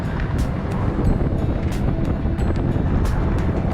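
Breezy wind buffets the microphone on a bridge in Fort Lauderdale, a steady loud rushing roar with gusty surges throughout and no voices.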